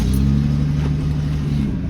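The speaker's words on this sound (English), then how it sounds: "let's get the engine started for a second" A 1971 Datsun 240Z Series I coupe engine idling steadily just after a cold start, a loud, close, even rumble with a low droning hum and no voices.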